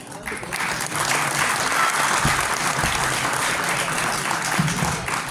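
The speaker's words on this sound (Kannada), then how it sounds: "ಜೋರಾದ ಚಪ್ಪಾಳೆ" A large audience at a Karunaada Habba 2024 talk bursts into sustained, loud applause that fills the room evenly for several seconds, a dense wash of many hands clapping.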